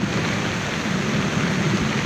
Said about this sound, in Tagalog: Ayan, umuulan na naman. Lumalakas na naman yung ulan.